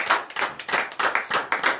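A church congregation claps in acclamation during a morning prayer service in Benin, roughly a dozen sharp, rhythmic hand claps in a steady, close, lively beat with no voices.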